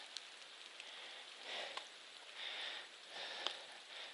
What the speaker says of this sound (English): There's complete whiteout and rain.